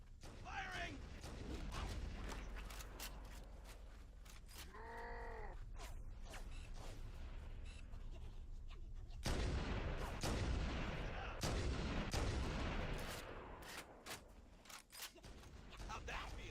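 Gunfire in Halo: Combat Evolved crackles loudly through a dense, continuous battle mix, with a sharper burst of shots and blasts later on and a brief synthetic warbling tone near the start.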